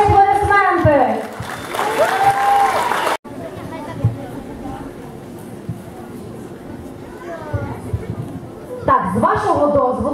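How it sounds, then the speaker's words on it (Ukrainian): Applause for the jury at a talent contest: a crowd claps beneath a loud amplified announcer's voice, then chatter and hubbub fill the hall before more talk. "Ваші аплодисменти!"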